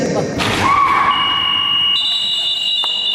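A loud, sustained electronic buzzer ends a basketball game's third quarter, sounding over a noisy crowd and people talking, holding steady for a few seconds.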